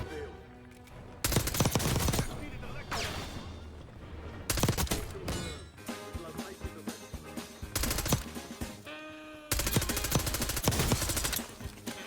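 SMG fire in Call of Duty Warzone: rapid automatic bursts come in several loud, separate strings with short pauses between them, over game background noise.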